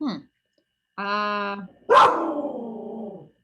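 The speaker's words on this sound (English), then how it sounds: "just that's my dog." A pet dog gives a short yelping bark-whine burst, then a longer whimpering howl, loud and close, with brief speech at the start during an online image review session.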